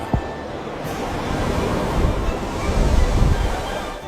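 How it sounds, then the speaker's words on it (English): Ocean waves roar and crash along cliffs, a steady broad wash of surf with gusty wind noise, swelling slightly louder toward the end. "He rode along cliffs where the ocean roared its mighty song."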